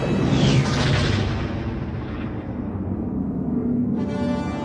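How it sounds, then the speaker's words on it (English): Death Star firing blast from a Return of the Jedi audio cassette: a loud, rumbling, sustained explosion that slowly fades, with a brighter burst near the end and no speech. "A blast came from the Death Star."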